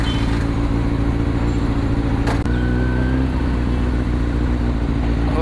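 Kawasaki Z900 sport bike ridden in Mumbai, its engine snarling loudly and continuously at steady revs from close by, with a sharp click and a slight change in pitch midway, no talk.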